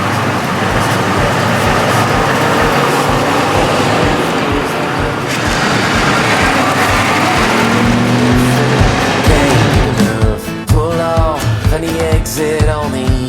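A Ford Crown Victoria Police Interceptor drives on the road with a steady loud rumble of engine and road noise, and other passing traffic comes in toward the end.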